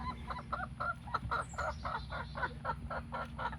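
Chickens cluck in a steady run of short, repeated calls, fairly close, over a low rumbling background hum.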